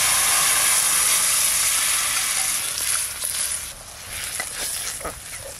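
Potato curry poured into a pan of hot fried spices, dried chilli, bay leaf, cumin and spice paste, bursts into a loud hissing sizzle that slowly settles into a softer, crackling simmer with faint stirring.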